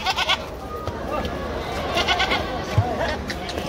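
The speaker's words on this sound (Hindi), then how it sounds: "यहाँ पे एक सूरत का बकरा है" Goat at a crowded Deonar livestock market in Mumbai during the Bakra Mandi, bleating amid dense crowd noise and nearby talk.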